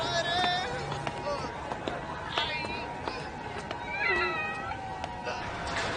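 A cat meows in a Hindi-dubbed episode of the anime Chainsaw Man, with a string of clear, close meows of varying pitch over a soft background bed.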